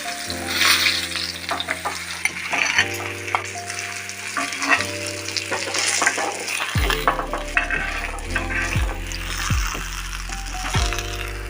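Pieces of katla fish fry lightly in hot oil in a pan, with a constant close sizzle and occasional scraping and clattering as they are turned.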